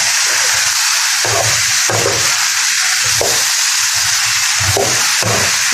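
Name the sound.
stirring bottle gourd and potatoes frying in a pan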